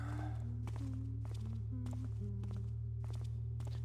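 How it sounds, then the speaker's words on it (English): Player footsteps in Thief Gold, a series of distinct thudding steps in an irregular walking rhythm over a constant low hum and background tones. "My own footsteps are so loud."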